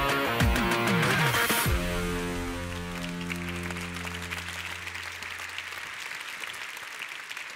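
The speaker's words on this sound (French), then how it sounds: "C'est bien de les applaudir bien fort comme ça" Audience applause at a women's leadership forum, starting alongside a fading musical chord and continuing as a steady, moderately loud patter of many hands that slowly softens toward the end.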